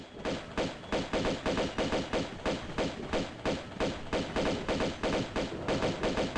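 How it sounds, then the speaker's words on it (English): Gunfire in the Tomb Raider II game, a steady, even rhythm of repeated shots, roughly three per second, sounding close and punchy throughout with no talk over it. "Stop shooting me"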